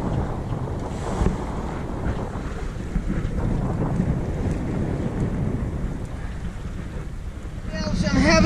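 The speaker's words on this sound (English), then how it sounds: "We're starting to get a nice bit of wind now, 11 knots." Steady wind roars across the microphone aboard a sailboat running under full sails at about 11 knots on open sea, with water rushing past the hull and a louder gust building at the end.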